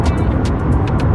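A 2021 Ford F150 King Ranch Hybrid pickup accelerates hard with a loud, close roar and rumble, pulsing with repeated airy bursts.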